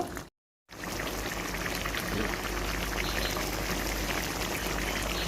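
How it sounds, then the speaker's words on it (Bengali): Pointed gourd and shrimp curry in coconut milk, with a little sugar added, bubbles at a steady boil in the pan, a dense continuous simmering hiss with no voices. "এক মিনিট ফুটিয়েই নামিয়ে নেব"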